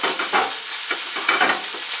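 Whole fish dropped into preheated oil, a loud close hissing sizzle with bursts of crackle and spatter.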